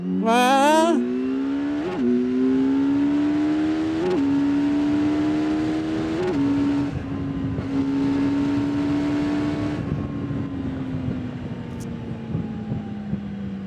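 A Kawasaki Z900 SE or Yamaha MT-10 SP motorcycle revs hard and climbs through the gears, its engine note rising and dipping at each of several quick shifts before settling into a steady cruise and easing off, with wind noise throughout.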